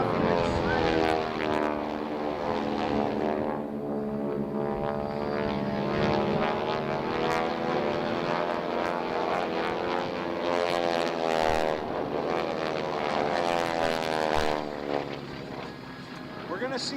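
North American Texan SNJ propeller warbirds flying aerobatics at an air show, with steady loud radial-engine drone and shifting propeller tones sweeping through the whole stretch as an announcer talks over it.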